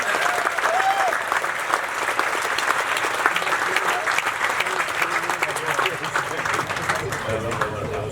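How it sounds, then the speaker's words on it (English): Steady, dense audience applause fills an awards ceremony for the 2021 Western States 100 Mile Endurance Run, loud and continuous throughout with faint voices mixed in beneath the clapping. "Let's give them a round of applause."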